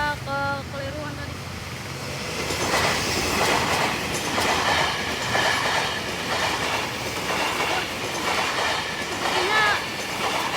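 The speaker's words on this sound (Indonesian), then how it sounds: "Sepertinya lokomotif vintage ya teman-teman, lokomotif vintage." A vintage locomotive hauling an economy-class passenger train rolls past, a steady loud rumble with rhythmic clattering wheels, a brief horn-like tone at the start, no talking.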